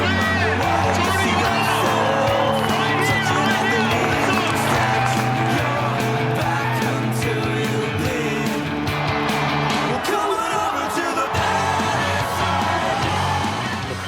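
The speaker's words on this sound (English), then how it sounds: "crowd went crazy. They were the loudest crowd, even for the most basic tricks." A loud crowd cheering, whooping and shouting continuously at a skateboarding demo, mixed with music and skateboard rolling noise throughout.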